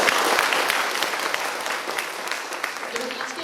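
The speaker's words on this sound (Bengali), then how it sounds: "আমরা সবাই মিলে একটু আমাদের এই পারফর্মারদের জন্য একটা হাততালি দিতে চাই" An audience applauds theatre performers with continuous, dense clapping that stays strong throughout, close and lively, with some voices mixed into the crowd.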